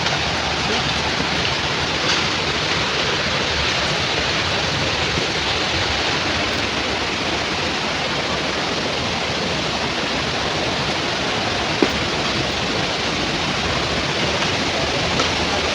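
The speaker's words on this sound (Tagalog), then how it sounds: "Wow, may falls." A powerful waterfall rushes in a loud, unbroken roar close at hand, steady throughout with no clear voices above it.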